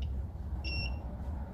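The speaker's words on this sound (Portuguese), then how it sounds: "Tô com outro multímetro de bip aqui." A multimeter's continuity beeper sounds once on a hair straightener circuit board, a short steady electronic tone lasting about a third of a second over low background hum.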